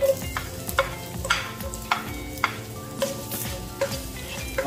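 Garlic and ginger stir-frying in oil in a pan, with a steady sizzle broken by repeated sharp scrapes and clatters of a utensil stirring, close and moderately loud with no talking.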